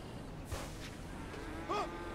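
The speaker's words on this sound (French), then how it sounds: "en train de taper une vache" A cow in a video game gives two short, faint moos, one near the start and a clearer one near the end, over quiet background noise.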